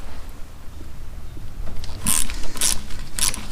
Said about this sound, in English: I've got to take these bolts out.